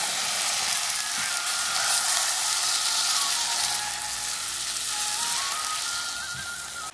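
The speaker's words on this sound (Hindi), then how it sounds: "और साथ में मैं चीनी भी डाल रही हूँ। तो अब इसको अच्छे से ऐसे मिक्स करते जाऊंगी।" Sheera with sugar frying in ghee in a kadhai, a loud, continuous hissing sizzle with soft stirring underneath that runs throughout, no voices.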